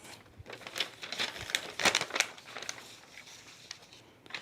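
Thin sewing pattern paper for a blouse crinkles and rustles while being handled, with irregular crisp crackles and a few sharper bursts over several seconds, close by with no talking.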